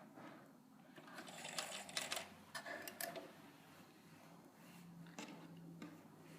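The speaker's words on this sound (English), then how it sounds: "And then back to the sewing machine." A sewing machine stitching a quilt block whirs and clatters in quick bursts, fairly close, with brief pauses between runs and no talking.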